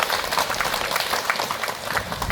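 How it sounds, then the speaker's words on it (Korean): A seated Buddhist temple congregation claps continuously during a dharma talk, a dense, steady rattle of many hands throughout the short stretch. "박수를 많이 쳐야 돼요."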